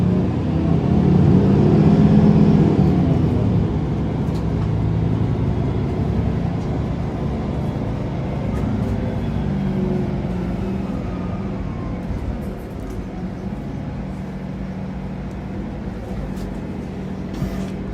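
A Mercedes-Benz Citaro C2 NGT city bus with a Mercedes natural gas engine runs steadily in Ljubljana, a continuous low rumble that swells briefly at the start, then settles into an even drone with no talking.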